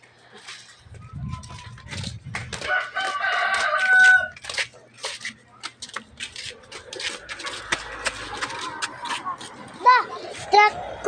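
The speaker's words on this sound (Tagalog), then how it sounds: "Maraming manok doon." Chickens cluck and a rooster crows repeatedly outdoors, loud and close at times, mixed with children's voices and adult talk throughout.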